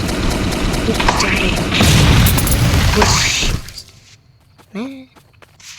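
A deep, rumbling explosion in a Roblox game swells and rolls for a couple of seconds amid game sound effects, then fades into quiet as a voice speaks briefly.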